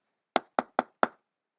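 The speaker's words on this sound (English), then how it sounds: "She knocked on the door." Four crisp knocks on a cottage door, evenly spaced and close, ringing out alone against silence.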